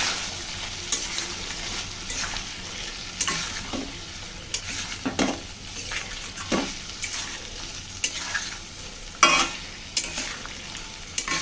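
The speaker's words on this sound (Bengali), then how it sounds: "সুন্দর করে নেড়ে ছেড়ে মিশিয়ে নিলাম।" Prawn curry with yogurt, salt and sugar is stirred in a hot pan, a steady sizzle broken by repeated scraping strokes of a spoon, close and continuous.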